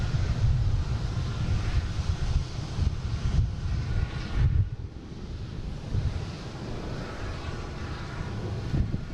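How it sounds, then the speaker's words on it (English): An American Airlines airliner taking off at Boston Logan bound for LAX, heard as a broad, distant roar mixed with wind buffeting the microphone, swelling and easing over several seconds. "next we have American taking off. Heading to LAX."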